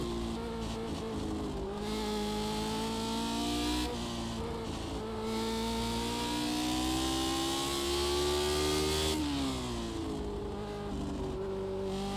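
Lotus 79 race car engine at Spa, a loud, continuous close-up engine howl with rising revs broken by sharp upshifts at regular intervals, each shift dropping the pitch before it climbs again; no voices.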